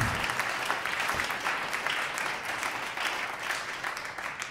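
An audience at a live jazz concert in Hamburg gives a steady, full round of applause. Many hands clap evenly throughout at a sustained, fairly loud level.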